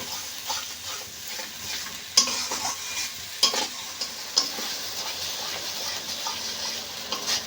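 A spatula stirs pointed gourd (patal) continuously as it fries in a pan to cook off its watery moisture. Steady scraping and soft sizzling run throughout, punctuated by a few sharper clinks of the utensil against the pan.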